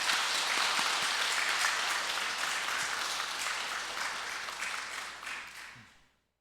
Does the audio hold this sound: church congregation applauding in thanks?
yes